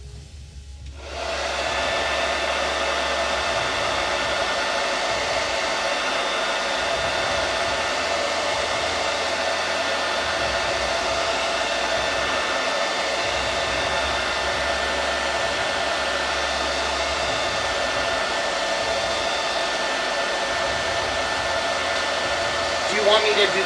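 A hair dryer blows steadily on a chalk-painted craft piece, a Halloween apothecary cabinet with a black arch and base. The loud, continuous whir runs for over twenty seconds after a quick start.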